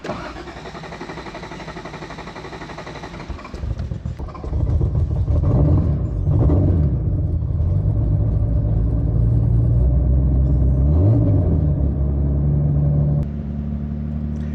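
A rally-prepared Toyota Supra's engine cranks for a few seconds before firing into a loud, rumbling idle that blips the throttle a couple of times, close by and without voices.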